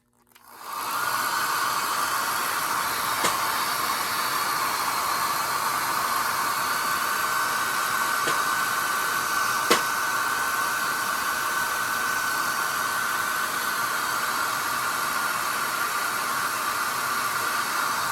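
A hair dryer blows to dry paint on the feet of a model wren, a loud, steady, close whooshing whir that starts abruptly and runs unbroken, with a couple of faint ticks.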